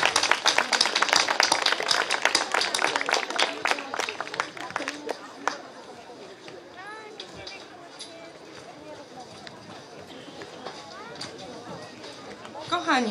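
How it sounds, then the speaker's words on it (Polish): An audience at a beach event applauds, dense clapping loud and close for the first few seconds, then thinning out into scattered claps and crowd chatter, with voices talking under and after it. "Wielkie brawa."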